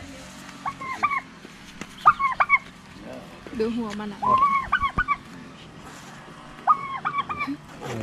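Small chickens cluck and call in a series of nasal, warbling bursts spread across several seconds. A person speaks briefly in the background.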